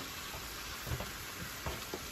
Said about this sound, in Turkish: Evet, ıspanakları hızlı bir şekilde karıştırıyorum.